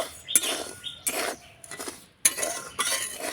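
Utensils clink and scrape against a bowl while sugar is mixed into semolina for a doi halwa dessert, in short uneven bursts of stirring with brief pauses between.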